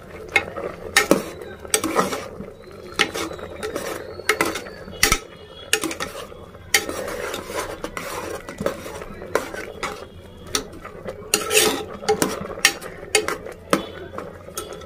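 Salt and turmeric are stirred into a chana dal and broad bean curry in a pan, with a utensil scraping and clinking against the metal in irregular bursts over a soft sizzle.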